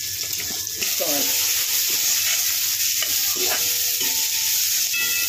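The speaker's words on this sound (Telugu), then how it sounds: "బాగానే ఉల్లిపాయలు ఎర్రగా కొద్దిగా మగ్గించుకోవాలి" Sliced onions fry in a pan for a bitter gourd and tomato curry, giving a steady close sizzle with occasional scraping stirs and light clinks throughout.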